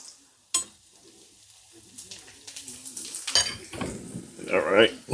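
Asparagus, scallions and garlic hit hot olive oil in a pan with a sharp clatter. Soft sizzling and stirring follow, with utensils scraping against the pan and a louder sizzle burst near the end.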